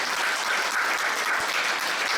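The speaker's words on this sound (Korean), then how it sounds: "박수 한번 하는 기념으로." A church congregation applauds during a closing worship service at a spiritual retreat, a dense, continuous patter of many hands clapping at steady loudness with no voices over it.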